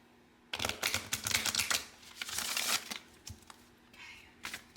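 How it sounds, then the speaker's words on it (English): A deck of oracle cards is riffle shuffled nearby, giving rapid crisp flutters and clicking snaps in several bursts, then a softer shuffle near the end, with no talking. "Give it a good riffle shuffle."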